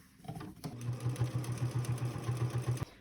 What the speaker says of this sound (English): you want to sew with a 1/8 inch seam just right up this line